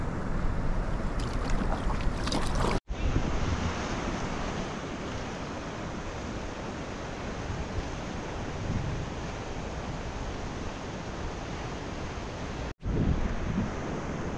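River rapids and a small waterfall on the Valtijoki route in Lapland, heard from a packraft as a loud, continuous broadband rushing roar that stays steady throughout, broken only by two brief cuts.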